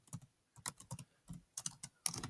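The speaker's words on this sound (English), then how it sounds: "all you have to do is just start typing" Fingers type on a computer keyboard in quick clustered bursts of clicks with short pauses between them. The clicks are close and distinct, and no one talks.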